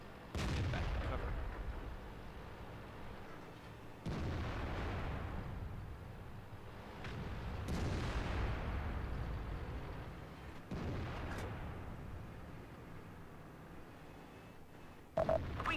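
Heavy tank cannon shots in World of Tanks, an E50 and IS-7 trading fire: about five loud booms spaced a few seconds apart, each with a long rumbling decay, followed by a sharper impact near the end.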